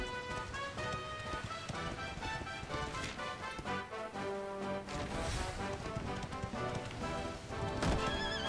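Horse in Dragon Quest XI whinnying over clip-clopping hooves, with busy game music running underneath the whole time and a louder burst near the end.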